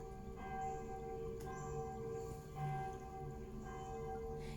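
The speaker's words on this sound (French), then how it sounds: "Je crois que c'est la première fois que j'entends les cloches aussi longtemps." Church bells ring continuously with sustained, overlapping tones, steady and moderately distant, with no voices.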